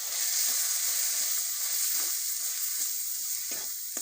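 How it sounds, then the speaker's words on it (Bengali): Spice paste of ginger-garlic paste, turmeric, salt, cumin, coriander and chilli powder frying in a pan for a chicken dish, a steady close sizzle with soft stirring scrapes throughout, no talk. "দিয়ে মশলাটা ভালোভাবে কষে নেব"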